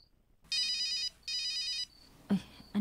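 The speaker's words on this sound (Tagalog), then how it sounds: "Anakong cellphone. May dinatawag." A cellphone ringtone sounds in two bright, electronic bursts about half a second long, with a short gap between them, followed by faint indoor noises.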